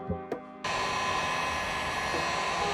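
A heat gun warms a Honda S2000 mirror lens, starting after a couple of light knocks with a sudden steady blowing roar that holds close and even, with no talking.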